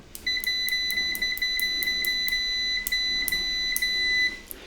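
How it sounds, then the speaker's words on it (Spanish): A UNI-T UT181A multimeter doing a continuity test gives a series of short, clear, high electronic beeps in a quick irregular rhythm. The beeps are fairly quiet against a faint background hiss. "En este UT181 el volumen del bip es un poquito más bajo"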